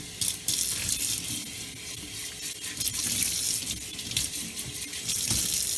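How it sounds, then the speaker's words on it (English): Tap water runs steadily into a sink while something is rinsed clean under it, a continuous close splashing hiss with slight surges and no voices. "now I better rinse that one again too"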